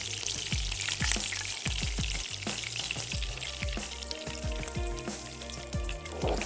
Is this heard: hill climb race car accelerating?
no